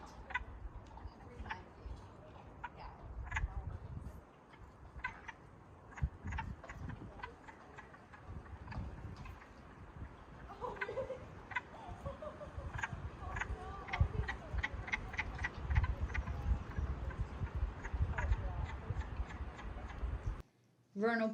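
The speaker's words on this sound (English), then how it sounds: "Here's a quick listen to the squeaking, chuckling sound that the wood frogs make during the spring." A chorus of squeaky, clucking wood frog calls in spring repeats rapidly and steadily, many voices overlapping at moderate distance, ending in a brief silence.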